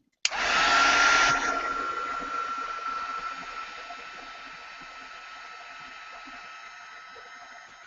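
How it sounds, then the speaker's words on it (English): Heat gun melting embossing powder on a Christmas-themed art journal page, switching on abruptly into a loud steady whooshing blower roar that settles to a slightly lower, gradually fading hum. "now I can heat emboss that"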